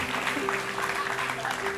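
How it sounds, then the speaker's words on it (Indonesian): Studio audience on an Indonesian TV talk show clapping steadily and fairly loudly throughout, a continuous dense patter of hands mixed with some voices. "Tepuk tangan"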